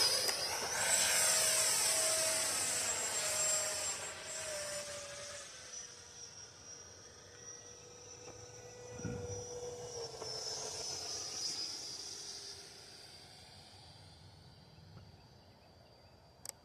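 A Freewing F-16 V3 RC model jet flies on a cold low-light evening, its ducted-fan whine sweeping in pitch as it passes near and then recedes, with steady roar throughout.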